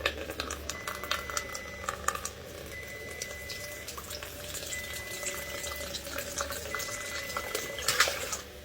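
About 420 grams of ice-cold water pours steadily into croissant dough in a kitchen, a soft continuous trickle and splash at close range with faint clicks, no voices.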